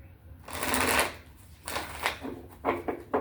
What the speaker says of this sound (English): I'm being led to keep shuffling, and I already shuffled this deck.